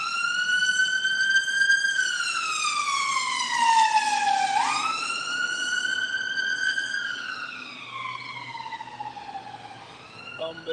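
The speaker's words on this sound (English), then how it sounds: "Ambulance." An ambulance siren wails loud and steady, its pitch rising and falling through long sweeps and then dropping as it passes, with faint traffic noise beneath.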